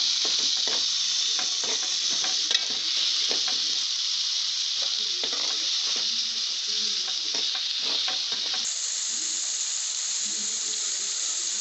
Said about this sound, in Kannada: ಇದು ಕೂಡ ಸ್ವಲ್ಪ ಮೆತ್ತಗಾಗಬೇಕು. ಮೆತ್ತಗಾಗೋ ತನಕ ಫ್ರೈ ಮಾಡೋಣ.